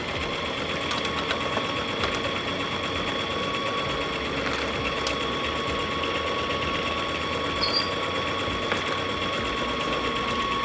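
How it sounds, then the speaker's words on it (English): A sewing machine stitches a knotted fabric headband, running as a steady, close mechanical whir with a few faint clicks and no talking. "So I'm gonna sew in just a little bit more"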